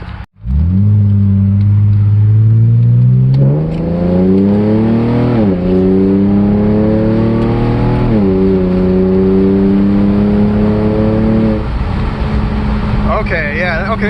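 A turbocharged car with a new exhaust roars loudly up close, revving higher through several gear shifts with a raspy exhaust note that rises and drops between pulls.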